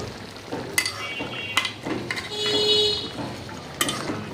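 Potatoes tipped into a pot of frying beef curry and stirred, giving a soft sizzle with a few sharp clinks of a utensil against the pan, close by and without talk.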